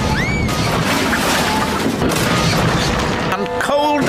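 A loud, chaotic cartoon train crash effect from Thomas and Friends with smashing, banging impacts and whistling tones, busy and cartoonish, ending with a rapid rattling flourish.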